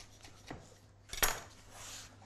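A knife cuts through a chilli on a chopping board, giving a few soft taps and one sharp, close knock, with a light rubbing scrape afterward and no talk.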